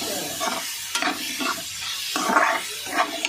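Vegetables for chowmein stir-fried in a hot pan, giving a steady close sizzle broken by repeated scraping strokes of a spatula at an irregular rhythm.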